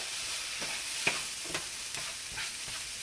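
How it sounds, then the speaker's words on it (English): Soy sauce is stirred into prawn masala in a pan, with a soft sizzle under several spaced scraping strokes of the spoon. "you want to add in the soy sauce, and again give it a good stir"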